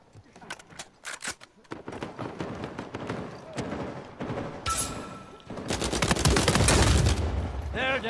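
Uncharted 4 multiplayer gun battle with bursts of automatic fire and single cracks, building into a loud, sustained volley near the end, with voices talking over parts of it.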